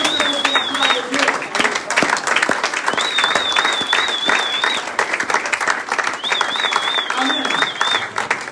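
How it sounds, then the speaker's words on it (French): A church congregation applauds steadily for the glory of God, with continuous clapping and crowd noise filling the space, while a high whistle-like tone rises above it at intervals. "Acclamez pour la gloire de Dieu"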